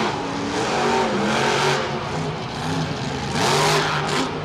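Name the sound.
monster truck engine revving at Monster Jam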